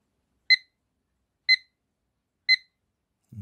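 Alarm tone from an Acctim LCD projection clock: three evenly spaced, bright electronic beeps about a second apart, clear and close in a quiet room, followed by a brief low rustle at the end.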